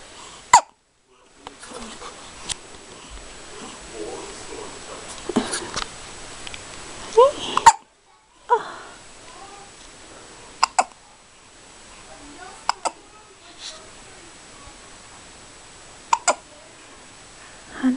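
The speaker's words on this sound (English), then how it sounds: "you have the hiccups, and it's so cute" A five-day-old newborn boy hiccups repeatedly, with sharp, close little hiccups coming at irregular intervals while someone speaks softly to him between them.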